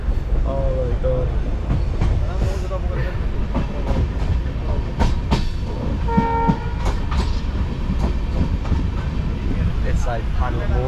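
Loud rumbling of a moving Indian sleeper-class train from Udaipur to Jaipur, rattling rails and clacking wheels, continuous throughout, with people talking over the noise.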